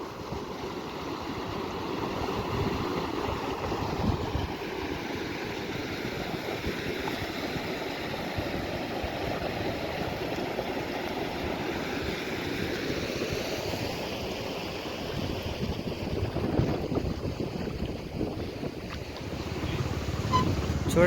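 Floodwater rushing through a village after two days of rain, a steady broadband roar of moving water with wind buffeting the microphone, continuous and loud throughout.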